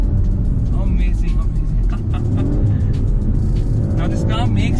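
An Audi RS 5 Sportback's engine growls loudly after a couple of downshifts, a continuous throaty roar with faint rising revs, under a person talking.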